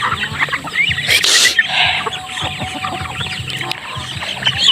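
Chickens and ducks cluck, quack and call nearby outdoors, a busy scattering of bird sounds throughout.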